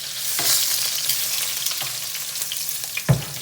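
A pork chop sears in hot oil, giving a loud, continuous close-up sizzle with a few soft thumps and one sharper knock near the end.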